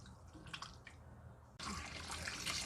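Tap water running over baby octopus in a sink: faint splashing and dripping at first, then the stream abruptly opens into a steady, louder rush of water.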